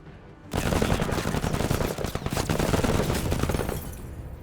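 Sustained rapid gunfire from a running gun in the game MENACE, a dense burst of crackling shots starting abruptly and continuing for about four seconds, loud and without talking.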